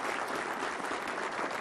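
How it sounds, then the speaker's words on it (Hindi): Applause welcoming a guest on a Hindi TV debate show: dense, even clapping from a studio audience, loud and continuous throughout. "तालियों के साथ उनका स्वागत कीजिए।"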